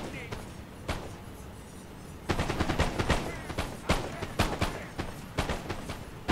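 Musket volley fire in the Napoleon Total War video game, with scattered crackling shots at first and then dense overlapping bursts of rapid gunfire, loud and continuous with sharp peaks, no speech heard.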